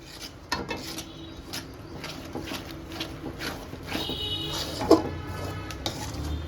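Roasted grated coconut is stirred into a mixture in a pan over low heat, a soft scraping and rubbing of a spoon against the pan with a few light clinks, close and fairly quiet, no talking.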